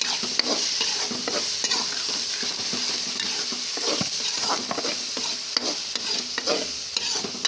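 Fish pieces being stirred and mixed with salt, red chili and spice masala, a continuous close run of wet scraping and clicking from a spoon against the dish, with no talk.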